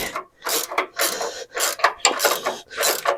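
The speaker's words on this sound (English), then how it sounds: "Grab your 14mm wrench, put her in there. There you go. Loosen her up." A 14mm wrench ratchets a bolt loose on a Lexus/Toyota front suspension, sounding as several close, rapid clicking bursts separated by short pauses.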